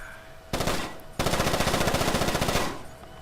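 Gunfire in the video game Splinter Cell: Chaos Theory: a short loud burst, a brief pause, then a sustained rapid automatic volley of evenly spaced shots, close and dominant, no talk.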